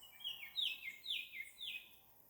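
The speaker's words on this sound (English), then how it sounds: "Listen to the birds. Anybody know what that is? The traditional Jamaican drum crow." Jamaican drum crow calling while flying over a farm, a run of four or five bright descending chirps in quick rhythm, fairly faint and distant against quiet surroundings.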